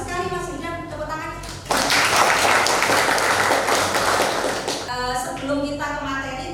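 A classroom of students bursts into applause during an arts and culture lesson, a loud burst of clapping between stretches of a teacher's voice talking before and after.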